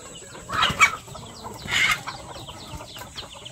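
Two loud bursts of clucking from gamecocks roaming a farmyard, close and sharp, separated by about a second, with quieter chirps and clucks trailing off against a light steady hiss.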